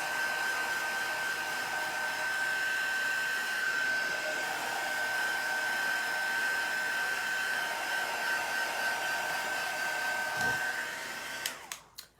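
A handheld hair dryer blows steadily on chalk craft paste, a close, even whirring rush that holds for about eleven seconds before clicking off.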